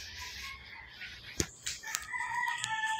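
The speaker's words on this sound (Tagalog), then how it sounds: "Ang ingay talaga ng mga manok." Roosters crow and cluck close by outdoors, with a few sharp crows and scattered clucks over a quiet background.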